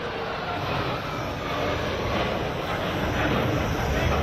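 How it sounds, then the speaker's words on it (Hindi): The Indian Air Force's Light Combat Helicopter roars in a continuous, loud, broadband whine and rush at an air force event in Jodhpur, with no talking. "लाइट कॉम्बैट हेलीकॉप्टर जिसे रक्षा मंत्री राजनाथ सिंह ने भारतीय वायुसेना को अब समर्पित कर दिया है"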